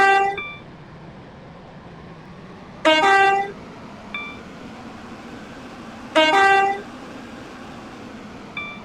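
Train horn blasts and a rolling train in the Stepford County Railway game: three loud, harmonic horn blasts about three seconds apart, each followed by a short fainter echo, over a steady low rumble of the moving train.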